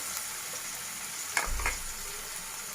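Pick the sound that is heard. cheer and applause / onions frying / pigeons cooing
onions frying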